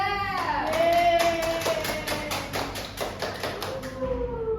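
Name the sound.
class applause for group 2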